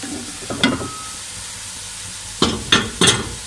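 Onion and vegetables sautéing in a pan with salt, a low steady sizzle broken by a few brief scraping stir strokes, one early and a cluster of three near the end, close and moderately loud.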